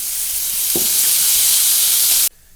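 Shelled green peas sizzle steadily in hot oil in a pan while they roast, a loud, continuous frying hiss that cuts off abruptly near the end.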